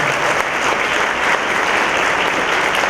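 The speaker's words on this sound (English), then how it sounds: "Let's have a quick round of applause for our panel." An audience at a community organization's annual meeting applauds a panel, with dense, steady, fairly loud clapping filling the whole moment.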